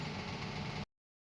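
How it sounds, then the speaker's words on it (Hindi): Sewing machine stitching the fabric and lining of a back-neck blouse, a steady, close motor whir that runs for under a second and then cuts off abruptly into silence. "अब जिस शेप में हमने कट किया है उसी शेप में हमें सिलाई लगा लेना"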